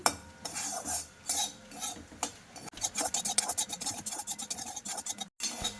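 Semolina being stirred as it dry-fries in a pan for black jamun sweets, a steady scraping and rasping of a spoon against the metal surface in irregular strokes, close and alone.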